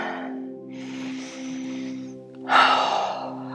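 Slow, deep breathing during a leg-strengthening yoga flow, a long soft inhale followed by a stronger, louder exhale, close to the microphone over a faint steady background hum.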